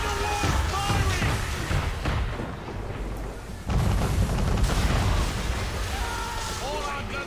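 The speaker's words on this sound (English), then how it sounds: "We're under attack! Men of war firing!" Warship cannons boom during an Assassin's Creed III naval battle, deep heavy blasts rumbling under shouted commands and ongoing battle noise, with a strong burst midway through.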